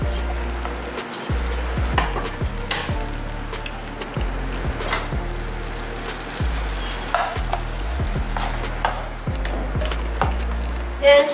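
Garlic and curry leaves sizzle steadily in melted butter in a home kitchen pan, with repeated scraping and stirring knocks over the continuous close frying hiss.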